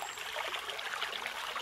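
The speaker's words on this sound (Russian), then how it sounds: "Внизу протекает звонкий ручей." A babbling brook flows below a trail along the Komarovo shore, a soft, steady rushing and trickling heard from a distance without voices.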